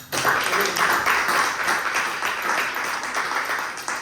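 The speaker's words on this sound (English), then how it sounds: "Please give yourselves a round of applause." Audience at a New York Fashion Week panel discussion in a fine art gallery breaks into steady, dense applause from many hands, loud and sustained throughout, with a voice faintly heard over it.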